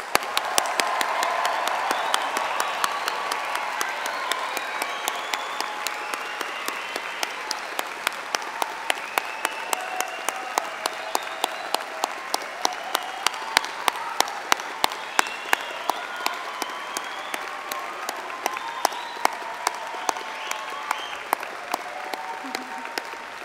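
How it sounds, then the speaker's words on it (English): Sustained applause from a graduation ceremony crowd for award recipients, a broad field of clapping that holds at a fairly even level throughout, with a few sharper individual claps standing out near the microphone. "please joining us in giving all recipients of awards a final, very well congratulatory round of applause"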